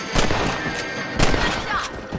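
A rifle fires at a rabbit during outdoor hunting gameplay in Red Dead Redemption, with sharp close shots and crackling reports over ambient game sound and hoofbeat-like thuds.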